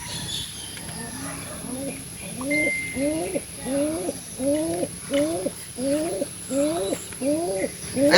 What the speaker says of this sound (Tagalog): Pwede na natin lagyan ng ating mga ibong barata.